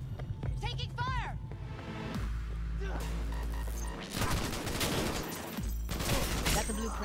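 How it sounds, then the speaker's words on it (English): Gunfire in Cyberpunk 2077 during a firefight, rapid crackling bursts mixed with crashes and impacts, with a voice talking over the shooting. "Taking fire!"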